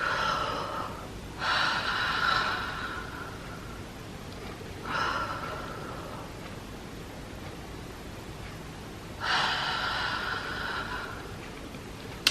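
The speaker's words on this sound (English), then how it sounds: "inhale deeply through the mouth and push your tongue outside of the mouth while exhaling" A person takes deep breaths through the mouth, each a rushing inhale followed by a long breathy exhale with the tongue pushed out, repeated three times with quiet gaps between, close and fairly loud with no talking.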